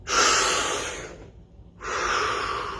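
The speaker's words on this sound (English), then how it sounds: "Take a deep, deep breath" Two deep, audible breaths sound close and clear during a guided stillness exercise, a long inhale, a brief pause, then a second long breath.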